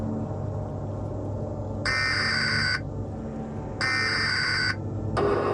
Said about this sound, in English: This is the emergency broadcast system.